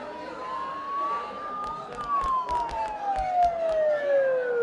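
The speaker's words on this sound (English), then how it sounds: "Don't those sirens sound really close?" Police sirens wail in a Persona 4 Golden game scene, a single siren tone rising then falling fairly close, with light clicks and taps over the top and no speech.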